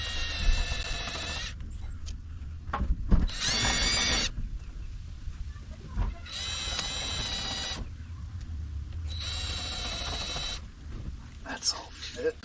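A small machinist pilot drill bit whines in three separate bursts of a few seconds each while drilling holes in boat hull repairs, with quieter pauses and clunks between them.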